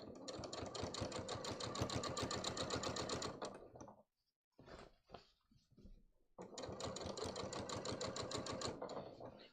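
A sewing machine stitches close to the edge of slim trousers in two rapid, rhythmic runs of needle clatter separated by a short pause filled with quiet handling sounds.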